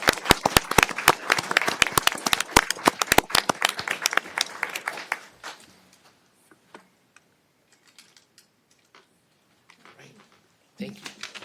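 Applause at a mayor and council meeting, sharp close-up claps from a modest audience that thin out after about five seconds into scattered claps and near silence, with a brief sound returning at the end.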